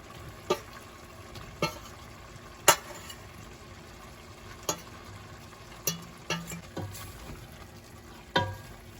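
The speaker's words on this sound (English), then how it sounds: "I'm just going to add some flour to this chicken and mix it up." Chicken pieces are stirred and tossed with flour in a bowl, giving soft scraping and rustling with scattered light clicks and knocks of a utensil, faint and close, with no talk.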